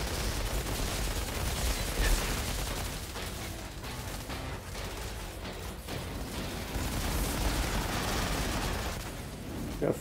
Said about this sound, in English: Thunderbird is definitely one of my favorite assault rifles.